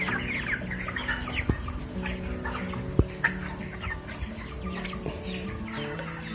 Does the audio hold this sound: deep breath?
no